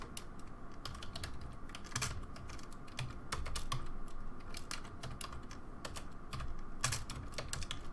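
Typing on a computer keyboard, with a steady stream of close, crisp key clicks and a few louder strokes standing out, heard alone and without voices.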